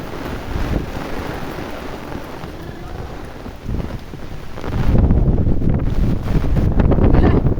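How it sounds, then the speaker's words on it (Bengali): Strong wind during a rainstorm roars and buffets against the microphone, a rough continuous rumble that grows noticeably louder and heavier partway through, with no speech over it. "এত বাতাস।"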